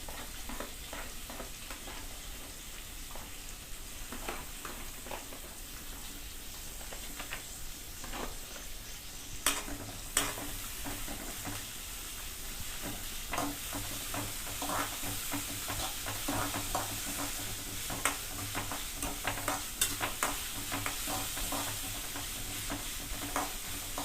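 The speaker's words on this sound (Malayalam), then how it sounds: "വെച്ചിരിക്കുന്ന നമ്മുടെ സവോള ഇട്ട് കൊടുക്കാം കേട്ടോ" Finely chopped onion, a single one, sizzling steadily in a pan with frequent scrapes and stirs of a utensil, a constant broadband fry hiss throughout with sharper clicks, no voices.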